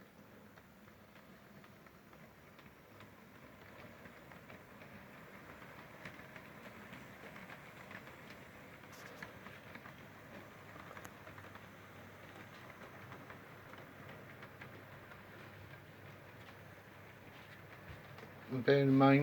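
A Piko 218 OO gauge model locomotive hauls a rake of wagons, its faint steady rolling hum and light wheel clatter running beneath a speaking voice, ending in a brief louder bump.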